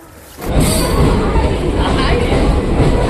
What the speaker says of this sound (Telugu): ఇప్పుడే ట్రైన్ అయితే వచ్చింది ఫ్రెండ్స్ ఇక మన పుదుచ్చేరి ఎక్స్ప్రెస్